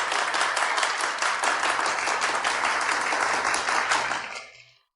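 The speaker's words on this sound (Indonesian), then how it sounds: "Mari kita beri tepuk tangan." Full, dense applause from an audience at a corporate event celebrating a tender win, loud and sustained, then tapering off quickly to silence.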